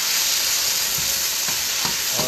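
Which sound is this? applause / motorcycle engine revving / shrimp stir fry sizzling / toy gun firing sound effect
shrimp stir fry sizzling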